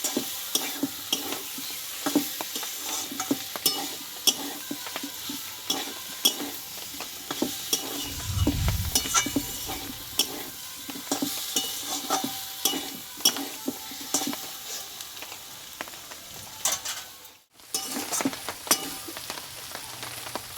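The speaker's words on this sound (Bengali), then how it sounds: "কিছুক্ষণ মশলার সঙ্গে আলু পটলটা কষিয়ে নেবো" Potatoes and pointed gourd being stir-fried with spices in a pan, an even close sizzle broken by frequent scraping stirs and clattering spatula strokes, with a brief dip near the end.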